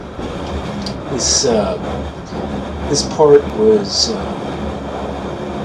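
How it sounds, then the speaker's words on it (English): Steady rumble and rolling noise inside a mountain railway train carriage travelling between Eigergletscher and Wengernalp, someone talking over the constant low drone with a few brief high squeals. "now we're just on the train"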